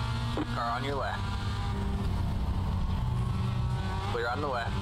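A Mazda MX-5 Cup race car roars past on the left during a race, its engine note rising and falling in pitch twice over a constant loud drone of the car's own engine, with a voice talking over it.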